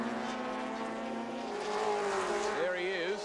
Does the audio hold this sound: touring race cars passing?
yes